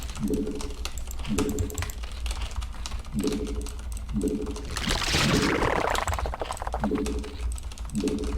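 Steady clicking keystrokes on a Leopold mechanical keyboard during a StarCraft match, continuous and moderately loud beneath background game sounds and voices.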